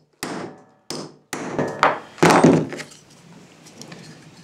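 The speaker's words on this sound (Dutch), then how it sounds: "Dus je moet behoorlijk hard slaan, hè?" Wire nails are hammered into wood with five sharp, loud blows at an uneven pace, the last ones heavier and ringing, followed by quieter shuffling.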